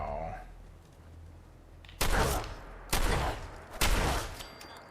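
Three loud, sharp gunshots from the Shell Shock weapon in the video game Fallout 4 are spaced about a second apart, following a quieter lead-in.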